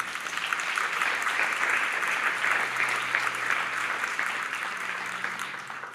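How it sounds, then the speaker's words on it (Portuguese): A church congregation claps in steady, sustained applause at moderate volume, a dense wash of hand claps filling the room with no voices standing out. "Quem crê, dá uma salva de palmas ao Senhor."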